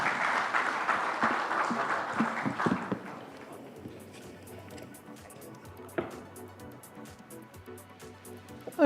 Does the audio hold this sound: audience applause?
yes